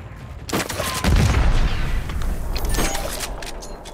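Frag grenade blast in Call of Duty multiplayer: a heavy boom lands about a second in, then rumbling gunfire and battle noise continue loud and close for several seconds, with no voice on top.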